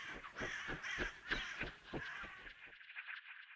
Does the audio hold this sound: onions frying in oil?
no